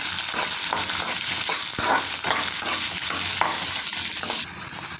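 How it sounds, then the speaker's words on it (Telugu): Green chillies, with urad dal, frying in oil in a pan for a tomato and coriander chutney, giving a dense, loud, continuous sizzle up close. Occasional stirring scrapes sound through it, and no one speaks. "పచ్చిమిరపకాయలు వేసి వేసుకోవాలండి. కొద్దిసేపు వేగనివ్వాలండి."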